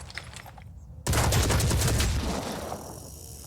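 A loud, sustained burst of rapid gunfire erupts suddenly and rattles on for over two seconds before tailing off in Phoenix Point, a turn-based tactics video game.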